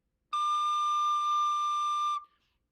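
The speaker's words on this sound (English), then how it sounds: "a D is fingered kind of like a C, except it's without the thumb hole" A recorder sounds a single sustained D, fingered with the second finger and no thumb hole, steady and clear for about two seconds, close and alone, then stopping cleanly.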